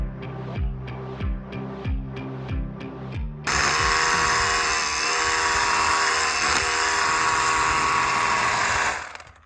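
A handheld power drill bores into dark soil at an off-grid homestead, first in short repeated revving bursts, then one long, loud, steady grinding run that cuts off at the end.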